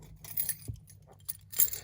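Keys jingle and clink briefly near a Subaru engine bay, a few soft metallic jangles and taps over a low background hum.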